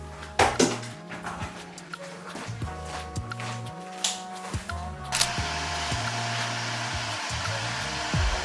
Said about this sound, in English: Ignore the kettle.